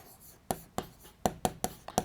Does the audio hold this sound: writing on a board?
yes